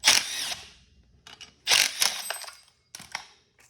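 9/16 clutch bolts being spun out with a ratchet or power driver on a Ryobi weed eater: two bursts of harsh, high-pitched whirring and metallic rattling, with short clicks and taps in between, close to the listener, no voices.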